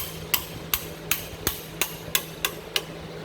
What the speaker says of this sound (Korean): 이렇게 망치로 치는 게 좋은 방법은 아닌데